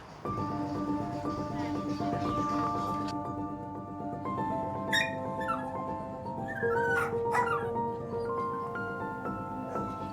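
Dogs at the SPA animal shelter in Marseille whimper and yip in a steady, close chorus, with a few sharper barks breaking through a dense kennel background and no voices.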